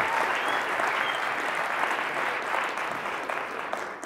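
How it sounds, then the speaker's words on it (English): Audience at a live storytelling event about bicycle adventures in Denver applauds and cheers for the speakers, a sustained, dense roar of clapping that holds steady and thins slightly toward the end. "Let's make some noise for them"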